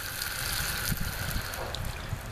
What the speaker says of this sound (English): the drinking bowl is overflowing